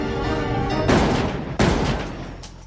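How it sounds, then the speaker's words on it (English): Two loud gunshot blasts in a tense 1998 thriller film scene, the first after a low murmur of background tones and the second a few seconds later, each followed by a ringing, echoing decay. "He ends up claiming that Kelly shot first, which forced him to shoot in self-defense"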